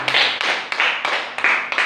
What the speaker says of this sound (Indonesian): Mari kita tepuk tangan dulu untuk ini.